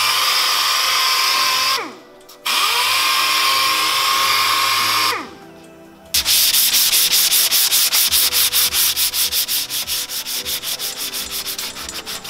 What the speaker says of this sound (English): I'm just going to sand all this with 320.